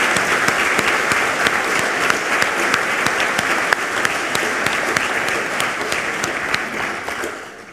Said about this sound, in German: Auch hier bitte ich Sie um einen Applaus für die Preisträgerin.